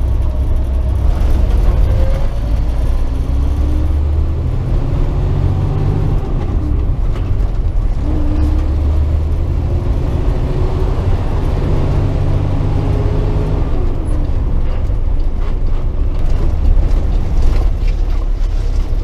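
Steady drone of a 2012 Kenworth T800 truck cruising at 55 mph around 1200 RPM, a deep continuous engine hum with road rumble, heard from inside the cab, loud and even with slight pitch shifts.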